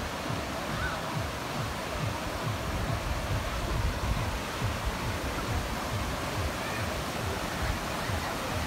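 Mountain stream at Suối Chí in Quảng Ngãi, Vietnam, rushing steadily as a continuous, fairly loud hiss of flowing water with no pauses.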